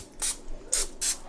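Pam cooking spray hisses onto an air fryer grate in three short bursts, close and fairly faint, with quiet gaps between.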